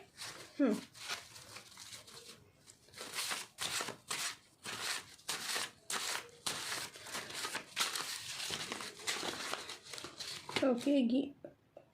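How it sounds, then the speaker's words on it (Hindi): Message cards shuffled by hand before a reading, a run of quick papery riffles and flicks with short pauses between them, close and fairly loud, with a voice talking briefly at the start and again at the end. "मैं पहले अच्छे से शफल कर लेती हूँ, फिर हम निकालते हैं।"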